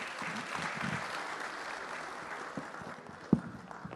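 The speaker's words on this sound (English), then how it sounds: "a big round of applause" Audience applause at a banking summit fills the room steadily for several seconds, dense and even, thinning slightly near the end with a single sharp knock.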